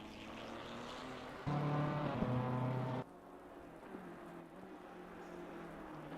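Rain pattering on the track in Assetto Corsa Competizione at Imola, a steady broadband wash under a racing car engine that swells loudly for a moment, then drops back to a quieter, continuous drizzle.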